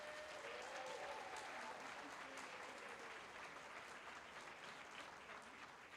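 An audience applauds at a youth inventors' awards ceremony, the Invent Idaho State Finals at the University of Idaho. Steady, dense clapping fills the hall from start to finish and fades slightly near the end.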